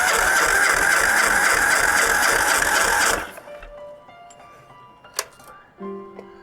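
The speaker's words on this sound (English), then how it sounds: "I will turn the key on, open the throttle all the way," Ural motorcycle engine cranking over on the starter with the throttle held wide open for a compression check, a loud, dense, even churning for about three seconds that then stops abruptly, followed by faint clicks and a brief tone.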